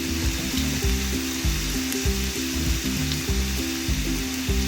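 Squeezed grated radish hisses and sizzles in a hot pan with onions, a steady frying crackle broken by soft rhythmic stirring scrapes.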